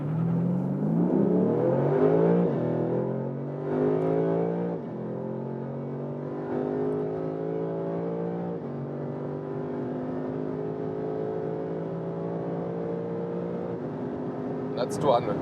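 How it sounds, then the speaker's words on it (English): A Lexus RC F with its 5.0-litre V8 accelerates hard through the gears, the engine note climbing in pitch with several shifts over about fifteen seconds, heard clearly from inside the car. "the very good thing about this 5-liter V8, yeah, it was a dramatic acceleration"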